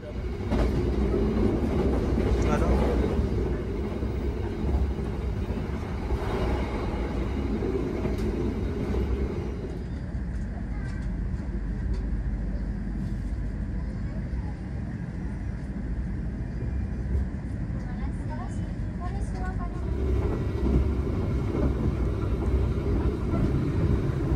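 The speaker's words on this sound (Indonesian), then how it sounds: "Kereta api Malioboro Express tiba di stasiun Gombong pukul 9:08 ya." Malioboro Express economy train pulling into Gombong station, a steady loud rumble of rolling wagons with faint rhythmic clatter throughout, easing slightly in the middle before swelling again.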